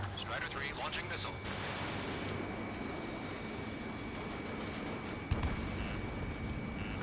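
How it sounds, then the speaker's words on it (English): A missile launch in the Ace Combat 7 flight game, heard as a loud rushing burst that sits in a dense roar of jet engines and radio chatter, with a sharp thump near the end. "Strider 3 launching missile."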